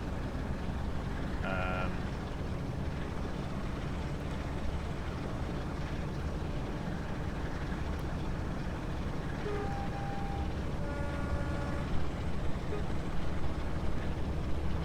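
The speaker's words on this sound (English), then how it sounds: "Yeah, the horns are really nice as well." Class 45 diesel locomotive horn in the game Train Sim World 5, a short tonal blast near the start and another longer two-note sounding later, both over a constant low engine rumble.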